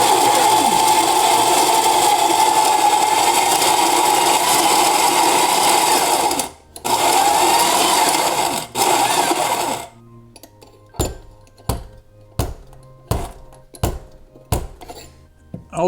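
A Eureka Mignon Specialita coffee grinder grinds beans in a loud, steady whine lasting several seconds, with a brief break partway through. After it stops, a series of sharp knocks and taps follows.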